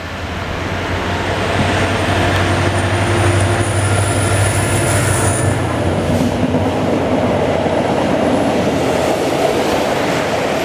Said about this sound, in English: Here comes the train. Here comes the Via.